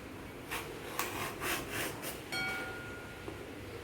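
A Tupperware peeler scrapes the skin off a ridge gourd. Several short rasping strokes sound close up and moderately loud, then fade into a quiet hiss.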